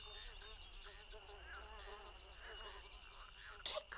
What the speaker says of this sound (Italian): Ah, le zanzare!